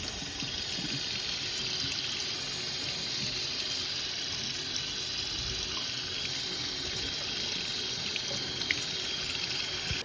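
Water pours and splashes steadily over a 43-year-old water-resistant Czechoslovakian M60 rain camo parka for several seconds, a constant rushing hiss with no voices.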